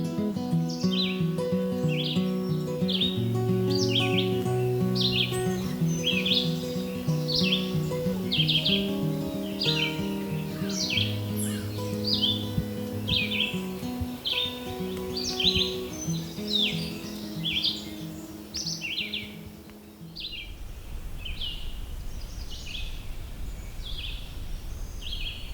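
Songbirds sing continuously beside a stream near Hector Falls along a winding single-track trail, with a Blackburnian warbler and red-eyed vireo among them; repeated high chirping phrases layer over steady lower whistled notes, moderately loud, ending in rushing water noise.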